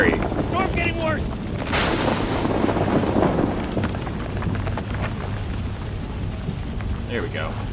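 Worsening storm in the horror video game Outlast 2, a loud broadband rumble of thunder and heavy rain building and rolling continuously, with sharp cracks near the start and voices talking faintly underneath.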